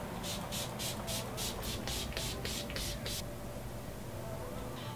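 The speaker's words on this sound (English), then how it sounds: "So now I'm just gonna spray my Fix Plus and my Urban Decay All Nighter" Makeup setting sprays, Fix Plus and Urban Decay All Nighter, misted in about eight quick close pumps in a row, then quiet room tone.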